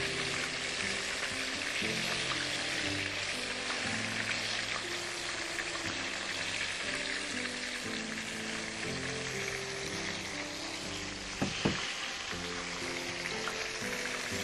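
Sweets frying in hot oil until light brown on both sides, a steady dense sizzle running unbroken throughout with a brief clatter near the end.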